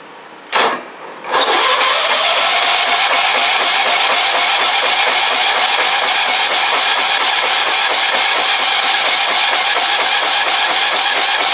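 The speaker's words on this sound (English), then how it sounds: "Let's see if this thing will fire up." Wrecked Craftsman riding mower with a purple and gold pulley swap cranks briefly, then fires up and settles into a loud, steady engine roar that runs on without a break.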